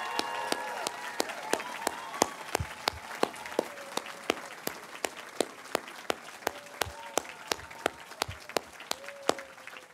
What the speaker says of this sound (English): Let's give a round of applause to the class of